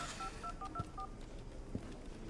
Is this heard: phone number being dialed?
yes